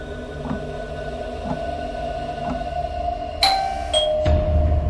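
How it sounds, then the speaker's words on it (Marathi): Doorbell sound effect in a Marathi horror story: two bright chime tones ring out near the end, over a low, dark ambient drone with no speech. "सकाळी दारावरची बेल ऐकून"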